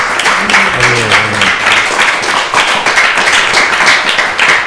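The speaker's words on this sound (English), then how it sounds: "So please give another big round of applause." Dense, steady applause from a large crowd fills the whole stretch, loud and continuous with no pauses.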